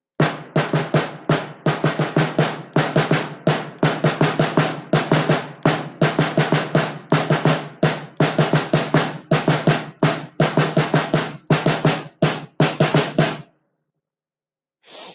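Crisp snare drum strokes play a quick repeating rhythm in rapid bursts and rolls, close and loud, stopping abruptly before a brief final hit and a moment of silence.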